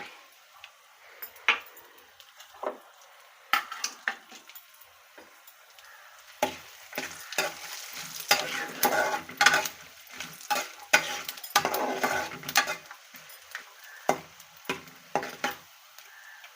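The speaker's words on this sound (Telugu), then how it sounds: "కొంచెం జీలకర్ర వేస్తున్నాను జీడిపప్పు కూడా వేసేస్తున్నాను" Cumin seeds and cashews frying in hot oil in a pan while being stirred, light crackling and sizzle with quick scraping taps that build in density midway, close and moderately loud.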